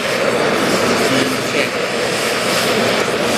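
A heat torch melts an aluminum repair rod on a pontoon boat, giving a loud, constant roaring hiss that stays close and unbroken throughout, with no talk.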